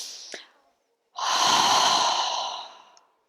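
A slow, audible exhale during a guided relaxation exercise, a long breath out lasting over a second, preceded by a short sniff-like inhale, close to the microphone and alone.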